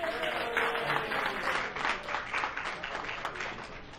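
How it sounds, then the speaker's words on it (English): Banquet audience applause, a fairly faint, continuous wash of many people clapping, heard from some distance with a murmur of voices mixed in. "Please give him a round of applause."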